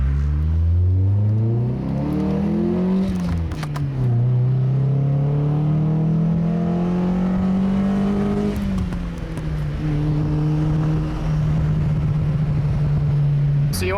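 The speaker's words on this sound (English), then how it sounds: "You're gonna want to run your car a little bit," Car driven after a Seafoam top engine clean, its engine revving up and shifting through gears in rising and falling sweeps, loud and close throughout, settling into a steady cruise drone.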